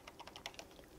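Several light plastic keystrokes tap out an uneven patter on a computer keyboard, quiet and close, with the Ctrl key pressed together with the plus and minus keys, with no voices.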